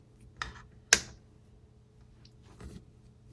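Scissors snip yarn after crocheting a cat granny square: a few quiet, close, sharp clicks, one crisper than the others, with no speech.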